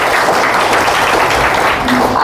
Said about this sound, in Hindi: बार शानदार वाली तालियां कुशलता देवी जी के लिए